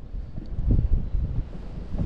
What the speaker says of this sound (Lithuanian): Tik kad viena bėda, vėjas.